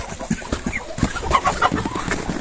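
Chickens in a Belarusian village coop cluck in quick, overlapping bursts, close and fairly loud, with no talk.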